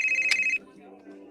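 A phone rings with an incoming call: a short, bright electronic ringtone burst lasting about half a second, followed by quieter room sound and low voices.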